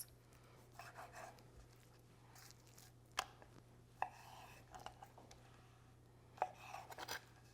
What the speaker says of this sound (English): we're gonna take each chicken breast and cut it up into about 2-inch sized chunks.